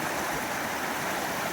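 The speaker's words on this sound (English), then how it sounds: "it's almost cascading over that rock" Snowmelt stream water cascades over a rock in a steady, dense, close rushing wash that fills the whole clip, with no voices.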